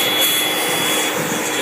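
A vacuum cleaner used to clean a John Deere JS26 walk-behind mower gives a steady, loud, close-up whine and rushing air roar with no let-up and no talk.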